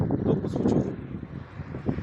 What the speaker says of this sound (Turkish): Çok bir soğuk bir rüzgar.